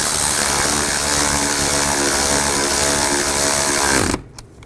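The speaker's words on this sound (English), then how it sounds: "Tighten the bolt down." A power tool whirs loud and close as it drives an ignition coil bolt on a Nissan Xterra, one sustained buzzing run of about four seconds that cuts off sharply.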